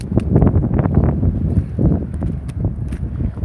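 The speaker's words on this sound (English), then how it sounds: "We're gonna walk through the wind." Gusty outdoor wind buffets the microphone while someone walks fast through it, rough rumbling bursts and rustle with faint footfalls, close and loud, no speech.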